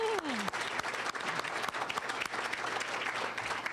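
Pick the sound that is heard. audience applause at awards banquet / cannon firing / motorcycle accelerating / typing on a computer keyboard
audience applause at awards banquet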